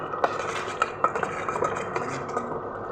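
Ingredients for a Chittoor-style chicken curry are stirred in a pan, with a spoon repeatedly scraping and clinking against the metal in an irregular rhythm over a low background hiss, close and moderately loud.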